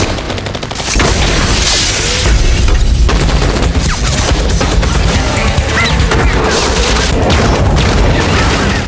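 Loud, dense bursts of gunfire and booming crashes from an action scene in a Mission: Impossible film, rapid shots layered over heavy rumbling with no pause throughout.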